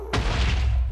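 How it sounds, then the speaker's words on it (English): A big explosion in Minecraft sets off with a sudden loud blast, then a long rumbling roar and crackle of debris that fills the whole second without fading much, with no talking. "Ooh, that was a big explosion."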